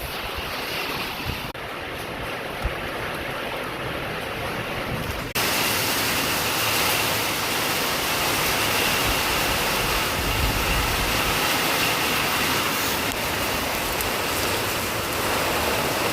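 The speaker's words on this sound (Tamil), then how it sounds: "மழை பிச்சுக்கிட்டு அடிக்குது" Heavy rain pours down outside a house, a dense, steady roar of water that grows even louder partway through and stays constant, loud and close, with no voices.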